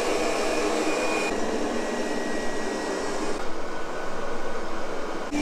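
An Ultenic TS1 robot vacuum cleaner runs nearby with a steady, broad whooshing hum, its tone shifting slightly as it works along the room's edges.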